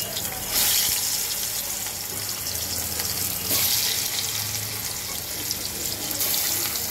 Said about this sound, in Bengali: এখন আমি মাছগুলো ছেড়ে দেব।